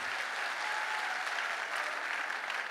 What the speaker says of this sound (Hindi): एक बार जोरदार ताली इंडियन आर्मी के लिए।